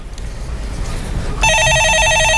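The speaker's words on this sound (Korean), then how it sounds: "예, 전화 받아보겠습니다." A telephone bursts into loud electronic ringing partway through, after a quiet stretch of faint room noise, and the bright trilling tone continues to the end.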